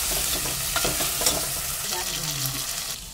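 Potatoes and peas sautéing in a pan for a cabbage sabzi, giving a continuous moderate sizzle with intermittent spoon-stirring clicks and scrapes, close up and free of speech.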